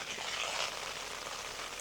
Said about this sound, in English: Rain is still on.